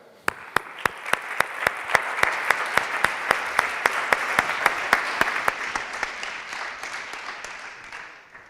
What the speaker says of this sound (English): A big round of applause for Assurance.